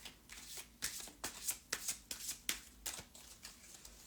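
Tarot cards being shuffled by hand, close and quiet, in a steady series of crisp riffling bursts about twice a second.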